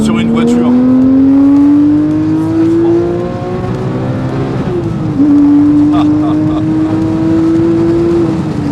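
Porsche 997 GT3 engine, loud and steady, climbing smoothly in pitch under acceleration, briefly dipping at a gear change and then pulling again, heard from close by.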